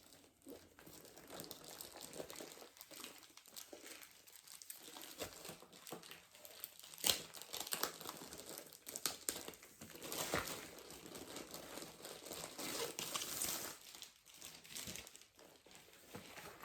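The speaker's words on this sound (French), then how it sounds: "Et donc maintenant, on va ouvrir la toile." Crinkly plastic packaging rustles and crumples close by as a diamond painting canvas from a Diamond Art Club kit is unwrapped, with bursts of louder crackling scattered through.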